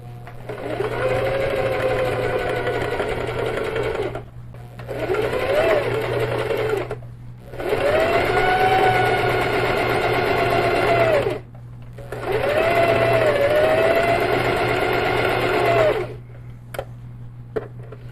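Sewing machine quilting a wide matelassê panel with pink thread, loud and close, running in four long steady bursts with brief stops between them over a constant low hum.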